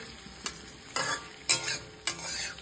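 Onions fry in a pan for dry chilli chicken, a soft steady sizzle broken by four sharp stirring scrapes spaced about half a second apart.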